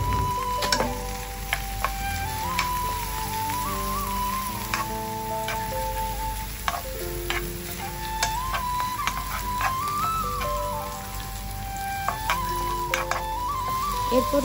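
Butter sizzles and fries in a pan with onions for butter chicken, a continuous crackling hiss broken by frequent small ticks and clicks, with a faint tonal hum and low talk underneath.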